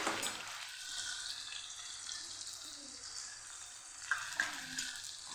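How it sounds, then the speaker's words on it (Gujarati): Onion and ginger sautéing in a pan, a steady, gentle sizzle that holds throughout, with a couple of light clinks near the end. "એને સાતળી લેશું આપણે આદું પણ ઉમેરી દેશું"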